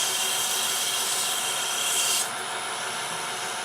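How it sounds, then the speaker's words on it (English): Sandpaper rubs against a wooden spin top turning on a lathe, a loud steady abrasive hiss over a motor whine that drops slightly partway through. "sanding doesn't take very long."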